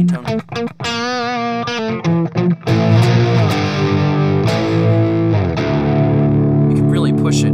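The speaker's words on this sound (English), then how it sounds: "overdriven clean tone" An overdriven clean guitar tone from an Overloud TH3 amp simulator rings out in loud broken-up chords, a few short choppy strums followed by sustained, densely distorted chords that hold and decay.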